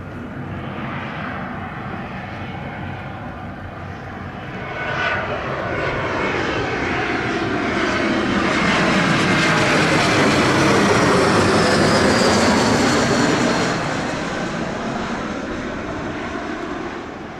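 A JetBlue jet airliner roars in to land on runway 07 at Montego Bay, Jamaica, its engine sound swelling steadily to a loud peak as it passes close by, then easing slightly while staying strong.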